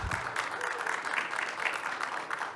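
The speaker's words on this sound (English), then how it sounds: "Let's keep the applause going" Conference audience at ShmooCon 2025 applauding a speaker's introduction, steady dense clapping filling the whole stretch with some crowd noise mixed in.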